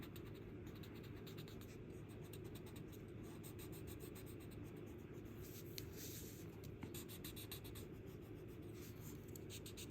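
Graphite pencil drawing on paper for a beginner Zentangle piece, a steady close scratching and rubbing of lead across the sheet, continuous with small bursts of quicker strokes and no talking.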